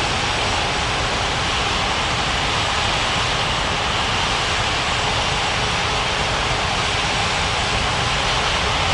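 A broad, steady roar of an airliner engine at takeoff power fills the whole stretch, loud and unbroken, with no speech over it; game sound from an air traffic control simulation at Capeville City International, runway 35 right.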